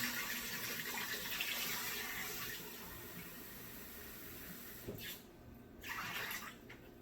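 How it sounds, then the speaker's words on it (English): Hot water runs from a kitchen sink tap in a steady hiss that fades for a moment near the end, then gushes again briefly, heard alone at moderate volume. "I just use hot water from the sink"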